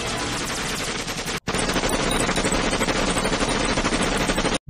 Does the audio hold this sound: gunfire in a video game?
yes